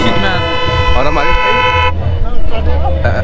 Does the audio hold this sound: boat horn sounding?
yes